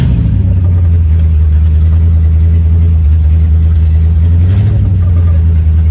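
A 1966 Ford Mustang with a newly installed engine drives on the road, its loud, steady low engine drone continuous throughout, with a rise in revs near the end and no talk.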